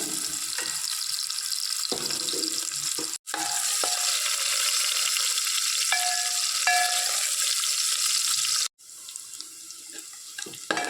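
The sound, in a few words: onion, curry leaves and mustard seeds frying in oil for sambar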